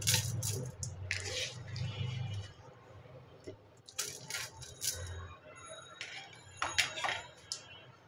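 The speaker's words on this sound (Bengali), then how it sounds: "এরপর আমি চাল আর ডালটা যে ধুয়ে রেখেছিলাম সেটা আমি দিয়ে দিচ্ছি" Washed rice and lentils are tipped into a rice cooker pot, making soft rattling and clicking grains and a few wet clatters in bursts, quiet and close.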